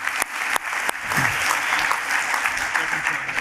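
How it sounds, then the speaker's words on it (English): Applause from a presentation audience fills the clip as a steady broadband wash of claps, with a few sharper individual claps standing out and brief murmurs under it. "Give a round of applause."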